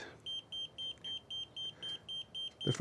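A brake fluid pen tester sounds a rapid run of high, even beeps, about ten in a row, shrill and close in a quiet garage, with a brief clatter at the end.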